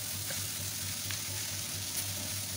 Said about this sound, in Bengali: এখন আমি চাটনিতে তেল দিয়ে অনেকগুলো পেঁয়াজ কুচি দিয়েছি একেবারে গুঁড়ো কুচো চিংড়ি যেটাকে বলা হয়